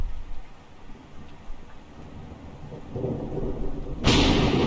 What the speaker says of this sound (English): Thunder crackles once again, cutting me off.